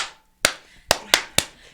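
Four sharp, close hand claps ring out in an uneven rhythm, the first after a brief pause and the last three in quicker succession, with no talking.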